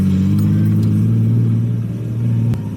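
A car engine held at steady, loud high revs during drift practice, droning close by with a slight dip near the end.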